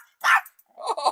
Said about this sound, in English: I thought you don't bark.